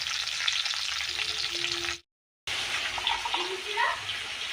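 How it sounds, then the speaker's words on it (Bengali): Steady sizzling of food frying in hot oil, broken by a brief silent gap, with faint clinks and a short scraping sound toward the end. "আমি বাকি চিংড়ি মাছগুলোও এইভাবে ভেজে তুলে নেব"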